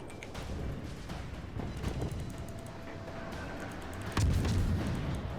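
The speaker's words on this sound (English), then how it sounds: "Get some cheap artillery shots on the Bismarck" Naval artillery fire booms from a World of Warships battle against the Bismarck, with heavy rumbling blasts and distant gunfire rolling over a dense, steady background of ship and game noise, growing louder in the final second.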